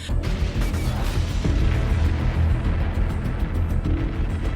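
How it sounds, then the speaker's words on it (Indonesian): Loud, continuous rumbling blasts with deep booming bursts from bombs dropped by aircraft in a Godzilla film, a dense sustained roar of explosions throughout. "pesawat mulai menjatuhkan bom ke arah Godzilla yang menghasilkan ledakan besar"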